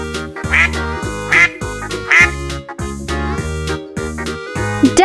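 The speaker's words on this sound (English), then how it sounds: "The sound of duck is" A duck quacks repeatedly in loud, nasal, buzzy calls, about five or six in a fairly regular rhythm, close and clear with nothing else behind them.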